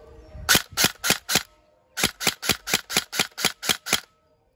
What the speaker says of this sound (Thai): เดี๋ยวเซมิก่อน ฟังเสียงนะครับการรีคอยล์นะ